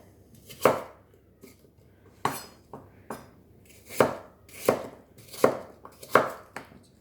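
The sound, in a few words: knife chopping apples into dice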